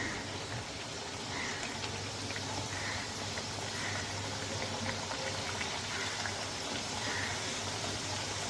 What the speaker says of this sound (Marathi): सर्व पुऱ्या मी तळून घेत आहे